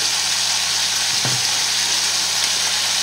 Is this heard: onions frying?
yes